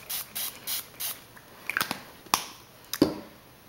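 Tattered Leather Glimmer Mist sprayed onto paper flowers in several short, close hissing bursts at a steady pace, then a few light clicks and handling taps.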